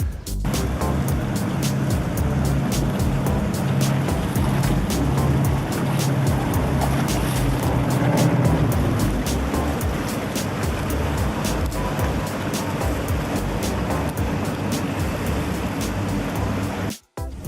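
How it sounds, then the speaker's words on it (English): Continuous loud rumble of a catamaran ferry's engine with rushing water and wind noise, steady for the whole stretch, cutting off abruptly at the end. "So actually it was a catamaran, but not a flying dolphin"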